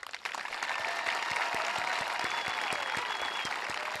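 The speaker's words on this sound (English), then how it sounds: "please stand for applause" A standing audience at the Jockey Hollow recognition ceremony applauds two award recipients: thick, continuous clapping that swells in after a brief lull, with scattered sharper claps and faint cheering tones on top.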